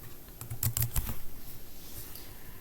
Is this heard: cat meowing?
no